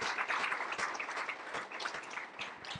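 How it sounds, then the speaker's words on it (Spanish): Audience at a Mexican judicial guide presentation gives the judges a round of applause, a fairly faint, steady patter of many hands clapping with no talk over it. "yo quisiera que les diéramos un aplauso a las y los jueces"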